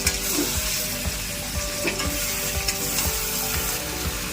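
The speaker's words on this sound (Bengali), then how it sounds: "দেখুন ভালো করে কষিয়ে নিচ্ছি, এভাবে কষিয়ে নেবেন।" Onion chicken masala is stir-fried in a pan, a steady close sizzle with repeated scraping strokes of a spatula against the metal, no voices.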